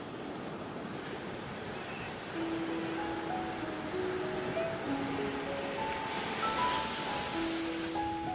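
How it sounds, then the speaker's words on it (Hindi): Sea waves wash onto Yarada beach near Vizag at dusk in a soft, continuous surf hiss with gentle swells, while faint thin tones drift in the background partway through. "अब शब्दों की कोई जरूरत नहीं, बस समुद्र की आवाज सुनना ही सब कुछ है।"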